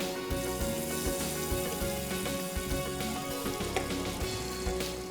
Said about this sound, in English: I'm going to heat half a tablespoon of butter first.